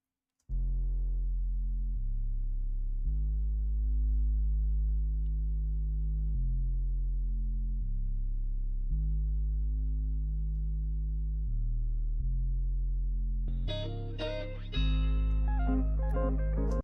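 Clean, unfuzzed electric bass in a chill FL Studio mix, steady sustained notes changing every second or so, with brighter backing guitar or synth layers entering near the end.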